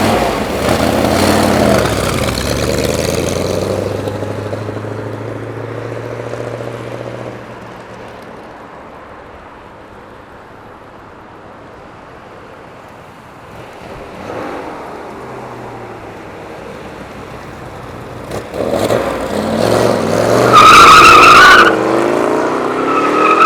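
A 1969 Chevrolet Corvette L88 accelerates hard and its tires break loose, loud engine roar and squealing skid up close, fading into a long quieter stretch before a second burst of engine and tire noise near the end.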